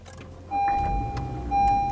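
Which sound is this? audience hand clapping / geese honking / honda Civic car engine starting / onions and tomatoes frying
honda Civic car engine starting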